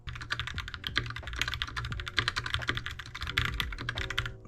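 An Akko mechanical keyboard typed on before any modding, a rapid, dense stream of close, sharp clacking keystrokes in an uneven rhythm, heard alone.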